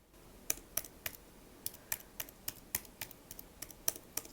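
A 2024 Apple Magic Keyboard with USB-C is typed on close to the mic, producing a quiet, irregular series of crisp key clicks with brief gaps between keystrokes.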